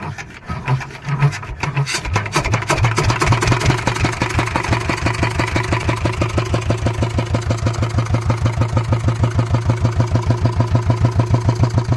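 A fishing boat's engine in the Sundarbans starts up with a few uneven coughs, then settles into a loud, steady, rapid thumping idle that runs evenly to the end.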